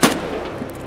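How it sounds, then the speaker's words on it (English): A single sharp gunshot in Escape From Tarkov, cracking loudly at the start and then ringing out in a short decaying tail, with no other sound over it. "where is he shooting you from?"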